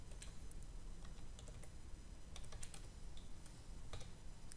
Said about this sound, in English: and then I can just type the numbers in here